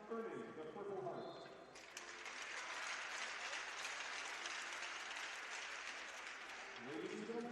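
Crowd at an amateur hockey game applauding veterans, steady broad clapping that swells after an announcer's voice and holds for several seconds before talk returns.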